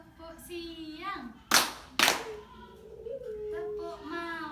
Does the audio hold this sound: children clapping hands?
yes